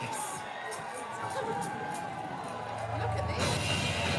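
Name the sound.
crowd cheering for the houses at a castle tournament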